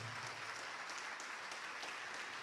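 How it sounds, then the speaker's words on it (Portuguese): Steady applause from a church congregation during a Portuguese-language worship service, a dense wash of many hands clapping throughout, fairly faint and without any talking over it. "Vamos aplaudir ao Senhor Jesus por cada vida que está chegando"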